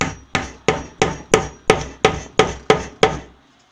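Nine evenly spaced hammer blows driving a wooden dowel into a board, sharp knocks each with a short ringing decay, close and loud, with no talking.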